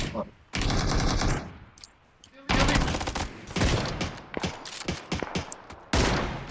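Video game gunfire in rapid automatic bursts, loud and close, with several sustained volleys separated by brief pauses.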